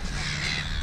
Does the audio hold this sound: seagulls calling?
yes